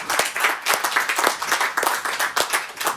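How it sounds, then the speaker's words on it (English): An audience gives a round of applause for sponsors and partners, with dense, steady clapping from many hands filling the room throughout. "let's give all of the sponsors and partners a round of applause"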